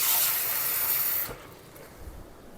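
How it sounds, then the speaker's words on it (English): Water poured into a pot of Saskatoon blueberry syrup on the stove, a steady loud rushing pour lasting about a second and a half before cutting off, followed by quieter background noise. "Add some water into this."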